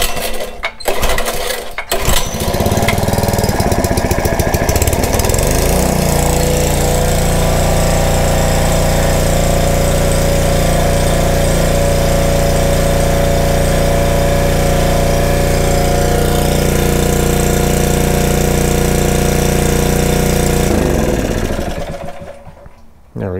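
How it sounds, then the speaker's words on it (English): A generator engine runs loud and steady close by, with a rough, droning idle that settles after a few seconds of uneven start-up and then cuts out near the end. "The engine does run."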